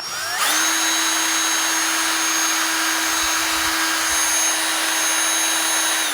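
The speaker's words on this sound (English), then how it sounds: "I could have used the stock ones as well, but I'm just drilling them out" A power drill spins up and runs at a steady high whine for several seconds, boring out plastic rod ends for an RC car, loud and close with no talking.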